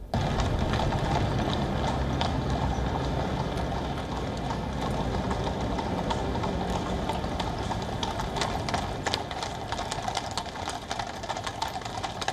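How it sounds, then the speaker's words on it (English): Hooves of six carriage horses clip-clopping through central London streets ahead of the coronation, a steady dense patter of hoofbeats with city traffic noise underneath, continuous and moderately loud. "6 of the 8 horses who will be pulling the stage coach were spotted parading through central London"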